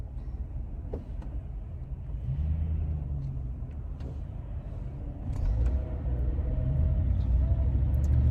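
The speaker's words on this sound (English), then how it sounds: "Trying to get through this traffic." A car drives through heavy traffic, heard from inside the cabin as a steady low road rumble that grows heavier toward the end, with faint knocks and clicks.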